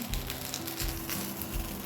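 Tapioca adai batter sizzles in hot oil on a pan, a close, continuous crackling fry with soft pops throughout.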